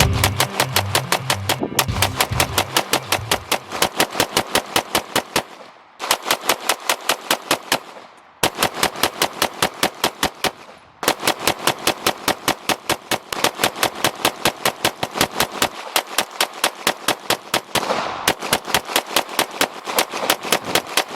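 Rapid full-auto gunfire from a B&T USW Glock chassis during a burn down, loud continuous bursts separated by short pauses during magazine changes over about twenty seconds.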